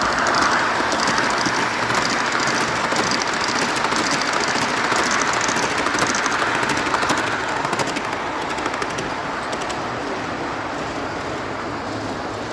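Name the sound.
G scale model train running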